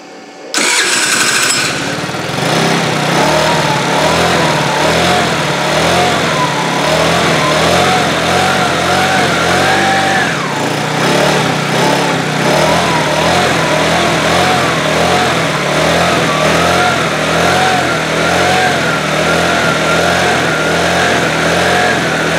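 A 2013 TaoTao scooter engine catches after a brief crank and then runs steadily at a buzzing idle, loud and close throughout, with a slight dip in pitch midway and no talking.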